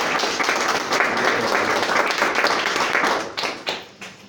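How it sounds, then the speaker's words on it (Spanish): A church congregation applauds together in sustained, dense clapping that tapers into a few scattered claps near the end. "Dale un aplauso a mi Señor."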